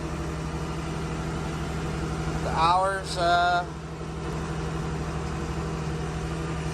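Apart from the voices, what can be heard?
tractor engine idling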